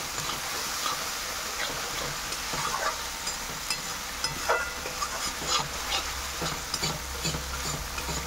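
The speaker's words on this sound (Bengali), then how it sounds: "সব কিছু এর সাথে কষিয়ে নিচ্ছি, একটু ভালো করে" Spices and ingredients are stirred and sautéed in a kadai on a home stove, giving a steady sizzle with repeated scraping stirs throughout and no voices.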